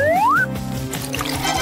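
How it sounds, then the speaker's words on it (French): Cartoon sound of water poured over a character like a shower, a rising slide whistle followed by splashy gurgling pouring noise, loud and close. "Besoin d'une douche rafraîchissante."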